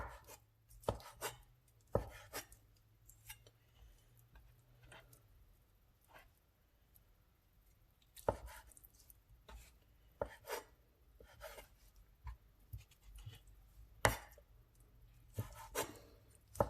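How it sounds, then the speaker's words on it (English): A knife chops raw ahi tuna finely on a cutting board in quick, irregular bursts of crisp taps, close but fairly quiet, with short pauses between runs of strokes. "I just like to go through and just chop it up pretty fine."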